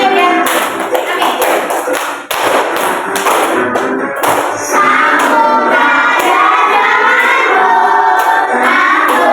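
Children clap along while singing a regional folk song in a classroom, a dense, steady rhythm of many hands under continuous group singing, loud and close throughout.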